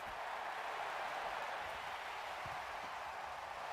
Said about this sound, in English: Crowd getting live.